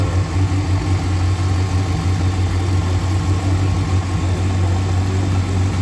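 At a Samarkand car market, a car engine idles in a steady, loud low rumble that holds without change for several seconds, with no one speaking over it.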